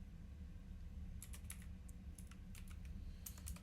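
Quiet typing on a computer keyboard, with scattered clusters of light key clicks over a low steady hum and no talking.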